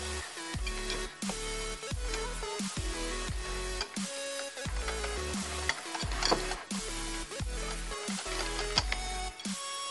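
A whisk beats pancake batter in a bowl with steady, rhythmic scraping strokes, each pass loud and close, with a repeated clacking and swishing pulse and no voices.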